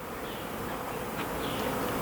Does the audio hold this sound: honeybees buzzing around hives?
yes